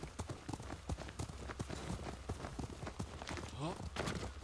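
A horse's hooves clip-clop at a quick rhythmic gallop in the samurai video game Ghost of Tsushima, a steady run of soft thuds playing faintly in the background with some low voice activity.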